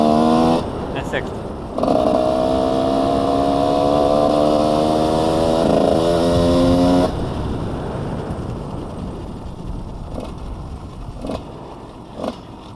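A motorcycle engine hums steadily as the rider shifts up to sixth gear, a loud, even drone that breaks off abruptly and gives way to quieter road rumble with a few soft clicks.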